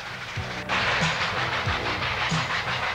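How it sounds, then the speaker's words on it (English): Nickel Plate Road 765 steam locomotive runs on the New River line near a bridge in 1988, with a loud steady rumble, hissing steam and rhythmic clanking of passing wheels and cars. "the train nears the bridge which takes track number one across to the north side of the New River"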